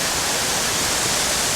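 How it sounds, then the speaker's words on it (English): Benlister Falls, a series of full waterfalls near Lamlash on the Isle of Arran, with water thundering down in a steady, dense broadband roar that stays loud and unbroken throughout. "a whole succession of waterfalls. Full of water, water thundering down"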